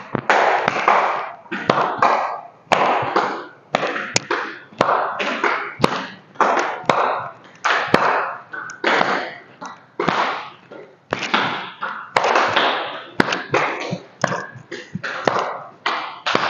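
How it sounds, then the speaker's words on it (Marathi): Rapid, sharp hand claps from a standing yoga class, made with the arms swung alternately in front of and behind the body. Dozens of loud claps repeat in a brisk, uneven rhythm for the whole stretch. "दोन्ही हात समोर घेऊ, समोर टाळी,"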